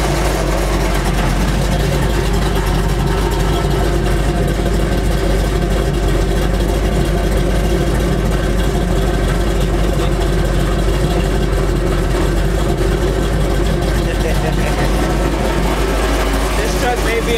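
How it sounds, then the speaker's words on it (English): A big old truck engine idles with a loud, constant low rumble and a steady throb that runs unchanged for the whole stretch, close by and without pause. "And now you get to hear the idle."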